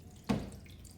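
A single drip or small splash of water lands on a floodplain model during a simulated rainstorm, quick and soft, with a faint room hiss around it.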